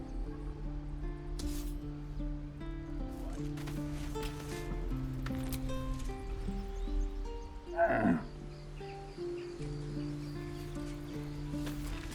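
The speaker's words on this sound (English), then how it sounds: "Moo!" A single cow moos once in the Baldur's Gate 3 video game, a short close low call rising out of soft musical ambience midway through.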